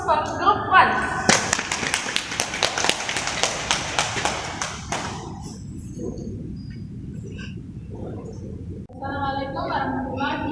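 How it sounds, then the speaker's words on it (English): A classroom of students applauds a presenting group: a burst of scattered hand claps for a few seconds, then fading into murmuring voices and room noise. "Give applause first for Group 1."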